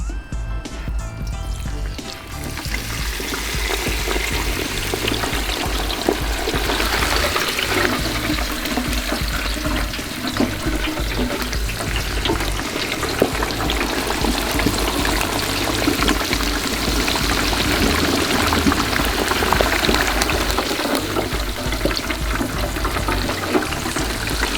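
A whole turkey is slowly lowered into a pot of hot oil for deep frying, setting off a loud, steady, continuous bubbling hiss that swells after a brief quieter start and roars on without a break.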